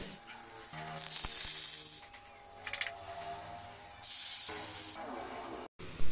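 Beef fries in a pan with loud, hissing bursts of sizzle that surge and fade in separate waves, broken by quieter stretches and a brief cut near the end.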